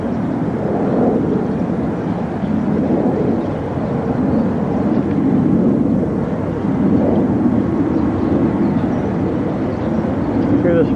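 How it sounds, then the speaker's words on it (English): Jet aircraft pass overhead on the morning of the September 11 attacks near the World Trade Center, a continuous, heavy low rumble that swells and fades across the whole stretch, with faint voices blended in. "Hear all those planes overhead."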